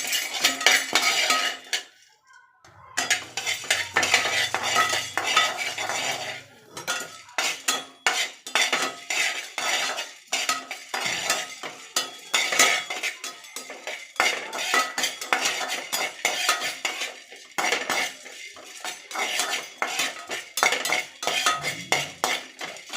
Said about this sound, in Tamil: இப்போ இந்த கடலைப்பருப்பும் இந்த பெருங்காயமும் தனியாக வறுப்படுத்திக்கலாம்